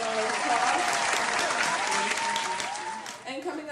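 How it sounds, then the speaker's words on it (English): A live audience claps steadily through a classroom presentation staged as a talk show, a dense, loud round of applause with some crowd noise that thins out toward the end. "applause"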